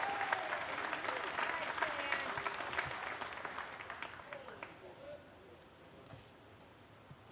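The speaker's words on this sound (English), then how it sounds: "never get used to that applause" A crowd of spectators at a disc golf tournament applauds steadily, a sustained wash of clapping and some cheering that slowly fades, heard from a short distance outdoors.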